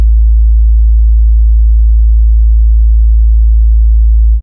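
A pure, low sine tone at a bass frequency holds steady and loud for over four seconds, alone, then cuts off abruptly.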